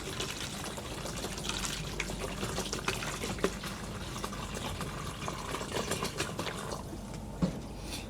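About half a litre of water poured into a bottle of plant root treatment mixture for a Monstera medusa, a steady close gurgling fill with small splashes and bubbling throughout.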